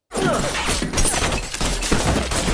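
Sustained burst of automatic gunfire from a film shootout, dense overlapping shots and crashing impacts filling the whole stretch loudly and without pause.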